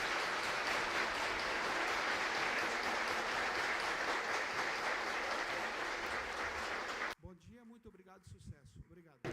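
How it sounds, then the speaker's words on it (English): Sustained conference audience applause, dense and steady for about seven seconds, then cutting off abruptly as a speaker begins talking. "Please join me in a round of applause to thank them."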